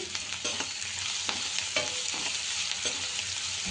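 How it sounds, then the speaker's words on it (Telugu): Salted chicken masala fries in a pan on medium heat, a dense continuous sizzle broken by repeated scraping strokes of a spatula stirring it. "మీడియంలో పెట్టుకొని మనం ఫ్రై చేసుకుందాం"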